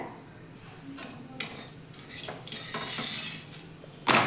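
Millet bhakri flatbread being loosened and flipped on a hot griddle, soft scraping and shuffling followed by a sharp clatter near the end, close and moderately loud with no talk.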